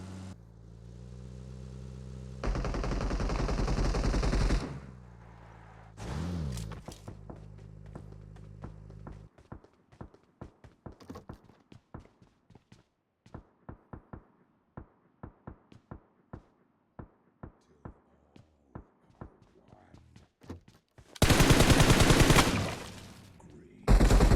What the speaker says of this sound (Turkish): Abakan sıkıyor.